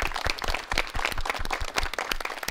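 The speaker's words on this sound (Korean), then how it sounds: "그럼 박수 예, 부탁드립니다." Applause from an audience at a Korean presidential Blue House radio and internet address special broadcast: dense, steady clapping from many hands, moderately loud and continuous throughout, with no speech over it.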